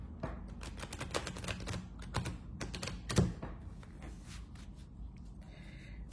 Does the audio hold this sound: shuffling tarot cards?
yes